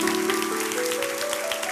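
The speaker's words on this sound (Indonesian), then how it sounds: "Kasih tepuk tangan dong untuk Tuhan Yesus." A church congregation claps together in a steady wash of applause that stays even and fairly loud throughout, with no voices standing out.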